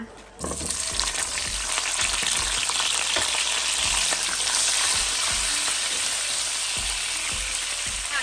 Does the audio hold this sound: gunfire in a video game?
no